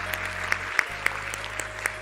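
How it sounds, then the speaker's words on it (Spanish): An audience at the Congreso Futuro 2023 conference applauds a speaker being introduced, steady clapping with a few sharper individual claps standing out over a low hum. "un aplauso aquí para Chris"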